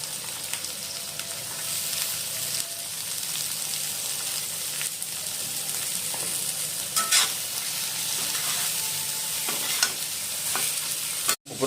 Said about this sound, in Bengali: তেলটা গরম হলেই আমি সবজিগুলো ভেজে নেব।